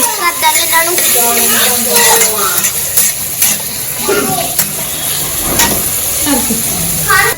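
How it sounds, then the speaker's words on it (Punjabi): Green chilies, onions and tomatoes frying together in a pan for a noodle dish, a loud continuous sizzle with scraping stirs, while a person talks over it throughout. "ਹਰੀਆਂ ਮਿਰਚਾਂ ਪਿਆਜ਼ ਤੇ ਟਮਾਟਰ ਸਾਰਾ ਕੁਝ ਇਕੱਠਾ ਹੀ ਪਾ ਦਾਂਗੇ ਆਪਾਂ ਤੇ ਇਹਨਾਂ ਨੂੰ ਚੰਗੀ ਤਰ੍ਹਾਂ ਭੁੰਨ ਲਾਂਗੇ"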